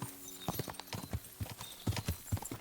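Horse hooves clip-clop in the video game Kingdom Come: Deliverance 2, a rhythmic series of close, distinct hoof strikes on hard ground, heard alone and fairly quiet.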